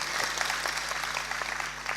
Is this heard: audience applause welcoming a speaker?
yes